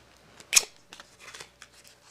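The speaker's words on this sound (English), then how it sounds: "we're going to bring it up here with a brand new deck, which I'm going to open now" A brand-new deck of playing cards is opened up close: one sharp crinkling tear of the wrapper, then a series of quieter rustles and small crackles of plastic and cardboard.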